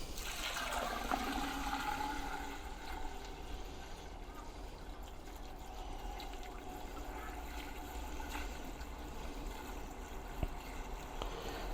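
Ten litres of RO water being poured into a newly built carnivorous-plant bog garden, a quiet continuous trickle and gurgle of liquid with faint splashy detail and a brief tap near the end.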